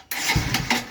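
Motorcycle electric starter cranking on a DIY LiFePO4 battery, a short mechanical whirring burst with an engine-like rumble surging in two or three pulses, close and fairly loud, with no talk.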